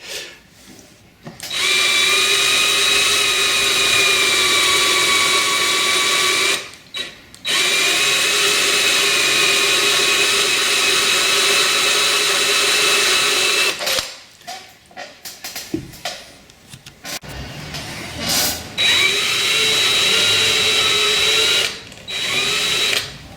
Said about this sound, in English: when you're drilling out a stud like this one's in a blind hole